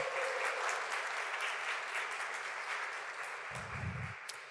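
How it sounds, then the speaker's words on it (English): Forum audience at the Geekdom Innovation Forum applauds the organizing team with steady, sustained clapping that stays even and fairly distant, tapering slightly at the end. "Get a round of applause for them."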